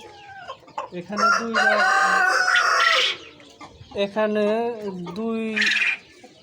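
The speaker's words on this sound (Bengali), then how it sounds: "তো এখানে দেখতে পাচ্ছেন কোয়েল পাখিগুলো।" Quails kept for breeding, a flock of both males and females, give loud nasal calls close by in repeated bursts with short gaps, and a voice speaks briefly between them.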